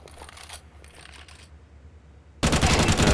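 FAMAS rifle fire in a Counter-Strike match: a quiet stretch of faint clicks and ambience, then a loud, dense burst of automatic gunfire erupting near the end.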